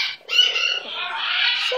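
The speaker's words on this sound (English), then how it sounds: "Such a good bird." A pet bird perched on a hand gives a loud, sustained squawking call that rises and wavers for nearly two seconds, close and alone.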